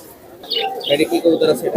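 Teddy pigeons at a pigeon market coo softly in low, throaty bursts, with a few faint chirps mixed in, close by.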